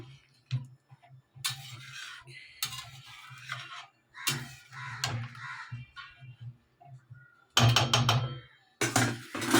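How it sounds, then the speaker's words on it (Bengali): A spoon stirs garam masala into a potato and duck egg curry in a pot, giving scattered light clinks and taps over a steady low hum, with a denser run of clatter near the end. "তারপর একটু নাড়াচাড়া করব গরম মশলাটা যাতে ভালো মতন ঝোলের ভেতরে মিশে যায়"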